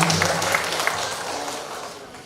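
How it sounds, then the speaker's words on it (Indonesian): An audience at a university talk show applauds for the students, a dense wash of clapping that starts fairly full and gradually fades away. "Tepuk tangan dulu untuk mahasiswa Bina Dharma."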